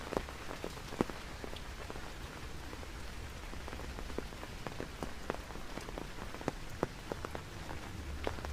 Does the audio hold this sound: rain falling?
yes